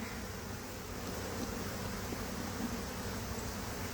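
Honey bees buzz thickly around an open hive, a dense, constant drone that stays close and loud throughout with no pauses and no voices.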